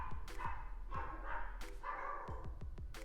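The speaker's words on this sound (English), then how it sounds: "My dogs." Several dogs bark repeatedly indoors, short sharp yips and barks coming in quick irregular bursts at moderate distance, with no talking.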